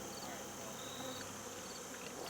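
Honey bees buzzing around a beehive during autumn feeding on a farm, a dense continuous hum of many insects close by with no talk.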